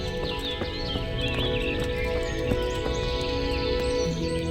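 Horse riding in the video game Kingdom Come: Deliverance: a horse's hooves clip-clop in an even rhythm close by, with an occasional whinny and light bird chirps in the background.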